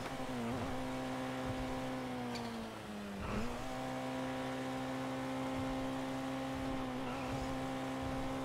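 A car engine hums steadily in a driving chase game, a constant droning tone with small pitch dips as it shifts, continuous and fairly close.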